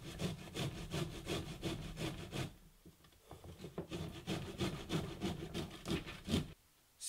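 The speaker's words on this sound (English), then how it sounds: "We have grated every bit of ginger that we can find" Fresh ginger rasped against a grater in quick, rhythmic back-and-forth strokes, close and scratchy, with a brief pause midway and a stop near the end.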